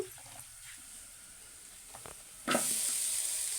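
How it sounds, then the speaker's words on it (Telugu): Green chillies drop into hot oil in a kadai for Andhra gongura chutney, a quiet stretch giving way to a sudden loud, steady sizzle that continues to the end, close with no talking. "అదే కళాయిలో పచ్చిమిర్చి వేయించుకుందాం"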